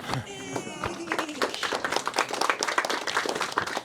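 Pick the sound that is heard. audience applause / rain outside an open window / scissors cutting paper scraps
audience applause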